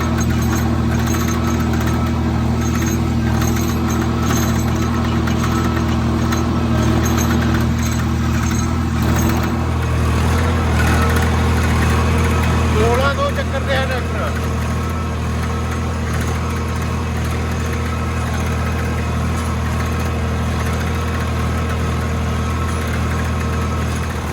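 A tractor engine drones steadily at high load while pulling a 13-tine cultivator in high gear through a field, the loud, continuous low rumble running unbroken and close with no talking.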